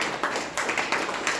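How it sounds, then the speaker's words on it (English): Audience members at a Toastmasters club meeting clap in a brisk, fairly close burst of applause, with evenly spaced sharp handclaps repeating throughout the short stretch. "Now let's give a big round of applause"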